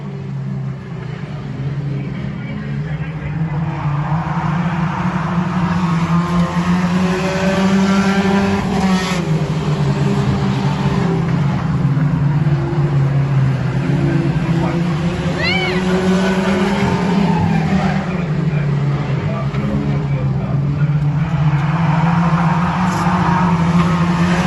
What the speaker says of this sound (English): So they're still racing side by side, 698 and 700.